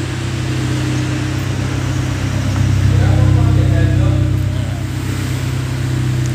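A 1990 Honda Grand Civic idles steadily through its exhaust, a deep continuous hum heard up close, swelling slightly louder in the middle as if the engine is briefly revved.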